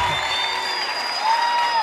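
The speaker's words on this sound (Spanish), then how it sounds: "Quiero un fuerte aplauso para Gerardo Farías." A crowd at a cumbia show applauds and cheers for a guest, a brief, continuous wash of clapping and voices heard alone.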